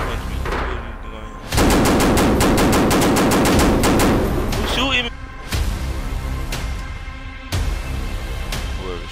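Rapid automatic gunfire erupts in a Roblox street-war roleplay game, with long bursts of close, loud shots, then scattered single shots and short volleys, while a person talks excitedly over the action.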